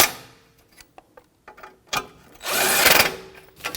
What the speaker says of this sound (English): Now with our 17mm socket, we're going to snug them up.